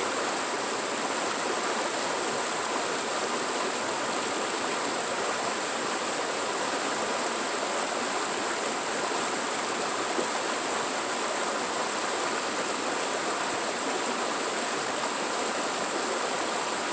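Steady rushing stream water flows in a cold winter setting where gold is being panned, a continuous even wash with a faint high whine above it and no talking.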